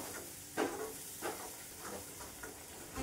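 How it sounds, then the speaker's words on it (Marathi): Ground spice paste for katachi amti sautéing in oil in a pan, a soft continuous sizzle with a few brief stirring scrapes, quiet and close. "हे तेल सुटेपर्यंत छान परतून घ्यायचंय आपल्याला"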